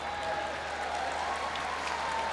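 Crowd applauding at an arena during a FIBA AfroBasket 2025 basketball game between Nigeria and Cameroon, a steady dense wash of clapping and crowd noise holding at even level throughout, distant and sustained.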